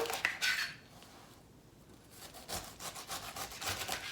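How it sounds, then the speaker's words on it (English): A knife saws through the tough bottom of a fresh pineapple in short rasping strokes. The cutting is close and fairly quiet, with a brief pause in the middle. "For today, so we just want to slice off the bottom"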